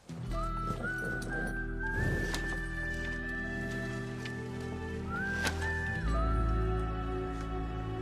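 A horse in a rural farm setting, with hoof clip-clops and a gliding whinny-like call over a low steady drone, a few sharp knocks in between, no clear speech.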